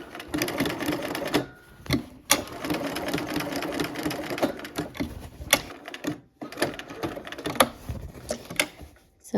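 A sewing machine stitches applique around fabric cloud shapes in rapid mechanical bursts, pausing briefly and starting again as the fabric is pivoted, close and clear.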